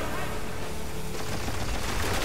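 Shotgun fire in the video game Spec Ops: The Line, heard as a dense, continuous wash of loud gunfire and battle noise with no pauses.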